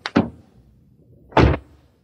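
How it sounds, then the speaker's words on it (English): A car door being shut, heard as a quick double click from the latch followed about a second later by a solid, dull thunk, fairly close and with no voices. "This is the sound of a car door."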